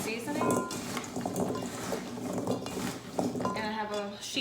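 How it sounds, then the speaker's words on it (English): Potatoes and carrots tossed with seasoning and granulated onion in a bowl, soft clinking and stirring rustle in short bursts, with a voice talking over it. "Toss my potatoes and carrots"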